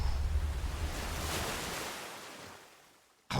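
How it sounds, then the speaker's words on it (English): Waves crash and wash against a ship within a musical track, a broad surging rush that swells then fades away before an abrupt burst at the very end. "Ending with that, the waves crashing against the ship."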